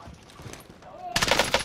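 Rapid automatic gunfire erupts suddenly in a shooter video game, a loud burst of quick repeated shots following a quieter stretch with faint background noise.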